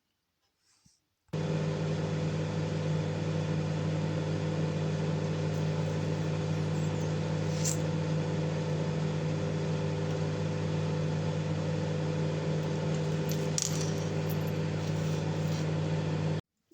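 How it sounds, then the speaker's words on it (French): Microwave oven heating butter and chocolate for Easter chocolate nests: a steady, even hum with a constant low drone starts abruptly and runs for about fifteen seconds before cutting off, with faint clicks along the way. "je sors du micro-ondes le beurre et le chocolat"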